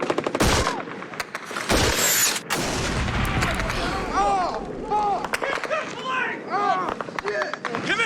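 Gunfire rattles through a firefight with the Taliban in Afghanistan: sharp loud shots and bursts, some close and some farther off, while soldiers shout over the chaos.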